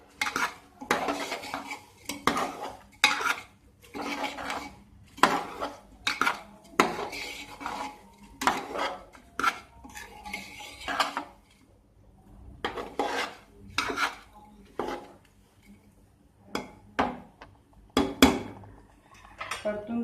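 Masala rice is stirred and sautéed in a metal pot, with a spoon scraping and clanking against the sides in irregular bursts over a faint background, close-up and moderately quiet for about twenty seconds.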